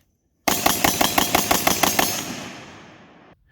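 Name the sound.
AR15 7.5 rifle gunfire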